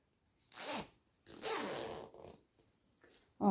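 A zipper on a cosmetic bag being sewn is pulled in several short, raspy runs at close range, with quiet gaps between each pull.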